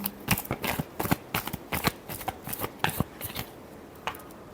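Tarot cards shuffled by hand in a series of quick, crisp riffling bursts with short pauses between, close and clear, with no voice over them.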